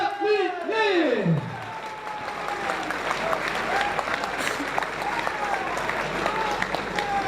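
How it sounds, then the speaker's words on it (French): Crowd applause and scattered cheering after a fight ends by submission at a combat sports event, rising as an announcer's voice fades out at the start and continuing steadily through the rest. "On peut les applaudir très fort, mesdames et messieurs."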